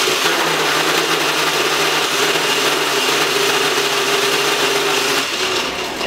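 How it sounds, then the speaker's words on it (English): Blender whirring loudly and steadily as it mixes homemade Mexican salsa with green chilies, a continuous close motor roar that dips slightly just before stopping. "Place the lid back onto the blender."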